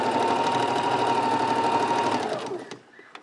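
A sewing machine stitches fabric for a pillow cover in a fast, steady mechanical whir with a rapid needle rhythm, close and loud, then stops abruptly, leaving a few faint clicks and handling sounds.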